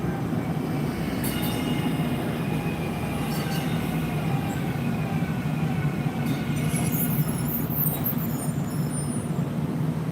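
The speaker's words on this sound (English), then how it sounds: "Do these trams run all night long?" A DART light rail tram rolls past, its steady rumble and wheel-on-rail clatter filling the whole span, with brief high metallic squeals and air-brake hiss near the middle and end.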